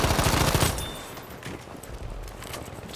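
M2 Carbine fire in Battlefield V: a fast, loud burst of automatic rifle shots in the first three-quarters of a second, followed by faint scattered gunfire and footsteps in the background.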